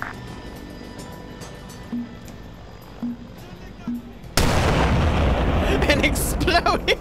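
In a military video game, an artillery shell lands and explodes with a sudden loud roaring blast that rumbles on for several seconds. Before the blast, a few faint low thumps sound under quiet background noise.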